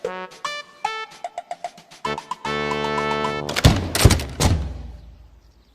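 Three loud, sharp door slams in quick succession, made by pigs shutting their doors in a children's storybook reading, arriving after a stretch of tonal musical notes and building into a dense, booming burst.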